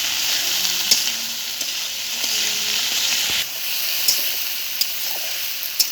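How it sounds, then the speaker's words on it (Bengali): Okra frying in a pan with a bright, continuous hissing sizzle, broken by occasional sharp scrapes and clicks as it is stirred constantly; no talking. "আমি ঢেঁড়সগুলো দিয়ে দেবো অনবরত নেড়ে নেবো"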